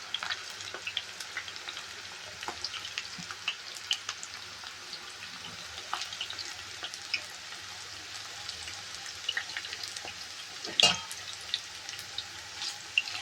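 Onion pakoda frying in hot oil over a medium flame, with a steady close crackle and bubbling hiss and a few scattered clinks and stirring sounds; no one speaks.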